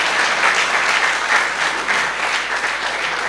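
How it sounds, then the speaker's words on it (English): An audience applauds at an official event, a dense steady wash of clapping from a crowd, loud and continuous throughout with no talk over it. "A round of applause for you."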